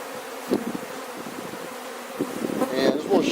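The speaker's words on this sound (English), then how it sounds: "I just want to shake these bees or brush them down in here" Honey bees buzz in a dense, steady drone at an opened hive as a super is removed, close and loud, with occasional light knocks of equipment.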